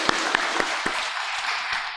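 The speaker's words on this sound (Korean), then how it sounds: "우리 박수로 환영하겠습니다." A church congregation claps to welcome a newcomer at a Sunday service: a short burst of brisk, fairly loud applause with distinct sharp claps standing out, fading slightly toward the end.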